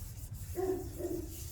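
A short, soft rubbing of sanding paste onto oak wood under a low background rumble, faint and brief.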